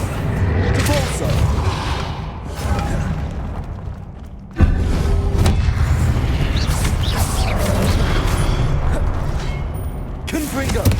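Spell blasts such as Confringo fire in the Hogwarts Legacy video game, a run of booming bursts and mechanical impacts with a sharp loud hit midway, under a voice calling out the spell names.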